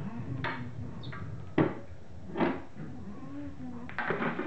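Metal doors of a stove that burns briquettes made from newspaper, sawdust and waste vegetable oil fat being shut, giving a few separate clunks and clanks, one sharper knock standing out, with quiet room noise between.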